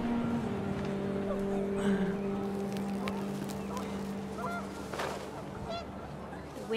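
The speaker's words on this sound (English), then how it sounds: "The wind picked up and panicked geese appeared and quickly went." Panicked geese honk repeatedly over gusting wind in What Remains of Edith Finch, the calls overlapping and fairly close under a steady low rumble.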